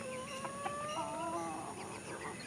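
Rooster offered for sale, black and red feathered, crowing with drawn-out tonal calls and a few clucks over steady farmyard background, moderately close.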